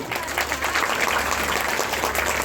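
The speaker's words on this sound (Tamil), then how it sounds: "மெலட்டூர் ட்ரூப்புக்கு பெரிய பெரிய கரகோஷம்" Steady, loud applause from an audience after a Melattur dance troupe's dance-drama performance at Thiruvaiyaru, a dense wash of clapping filling the whole moment with no break.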